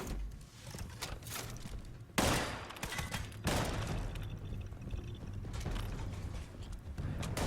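Enemy gunfire in Fallout 76, a dense, continuous clatter of shots with loud bursts and mechanical rattling running throughout, with no voices.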